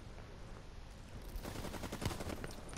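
Rapid automatic gunfire in Call of Duty: Black Ops III, a dense burst of shots rising out of a busy game mix midway and continuing to the end, fairly loud.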